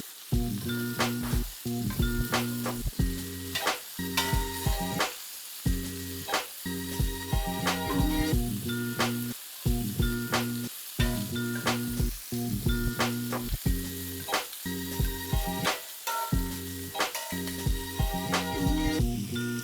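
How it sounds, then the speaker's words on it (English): Shrimp frying in a pan for a smoked gouda shrimp and grits dish, a steady close sizzle broken by regular brief clicks and taps, with no talking. "we're cooking our shrimp 2 to 3 minutes on each side"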